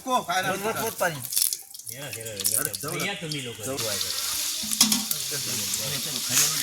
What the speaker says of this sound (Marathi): मंगेश तेली यांनी बघा फोडणी दिली आहे